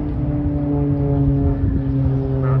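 A propeller airplane flies near a wildfire by Bear Mountain in Big Bear, giving a steady, continuous engine drone with tonal harmonics, fairly close and loud, with no voices.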